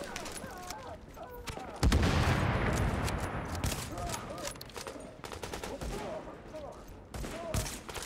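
Rapid bursts of gunfire in Tom Clancy's The Division crackle in quick volleys, with a loud blast near the start and talk running underneath.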